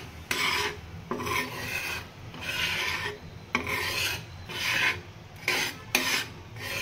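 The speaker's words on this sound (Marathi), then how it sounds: "आता हे मिक्स करून घ्यायचं आहे सगळं व्यवस्थित" Pithal, a gram flour batter, is stirred in a pan in repeated scraping strokes, each a gritty rasping sweep separated by brief pauses, close and steady with no voices.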